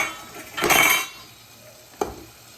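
Marinated meat is stirred in a pan, a brief rough scrape and clatter of a metal spoon against cookware, then quiet, then a single sharp clink near the end.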